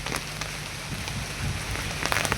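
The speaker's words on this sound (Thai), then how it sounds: "จังลมจังฝน" Rain falls steadily in a rural Thai charcoal-making village, with gusting wind adding a broad rushing hiss; the wash stays even and fairly close throughout, with a few louder drop-like pulses and no talking.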